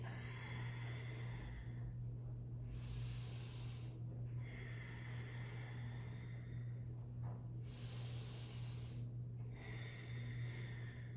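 Slow, deep yogic breaths during a seated twist in a morning flow, alternating long airy inhales and exhales roughly every two seconds, close and quiet over a low steady hum, no talking.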